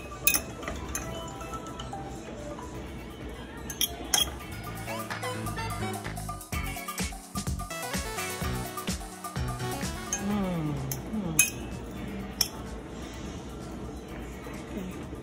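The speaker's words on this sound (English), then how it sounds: "Make sure you stir them up so they all can get a little good seasoning on them." Seasoned vegetables for vegan quesadillas are stirred in a pan, with repeated clinks and scrapes of a utensil against cookware, near and moderately quiet, plus brief kitchen clatter.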